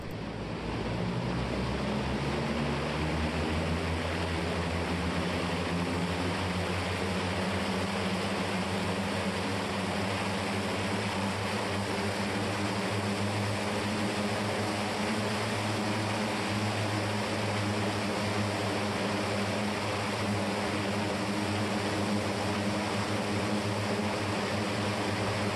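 An aircraft engine and propeller idle while warming up, a constant loud droning roar with rising and falling harmonic tones that lasts the whole stretch, close by with no talk. The propeller control has a problem with its oil seal.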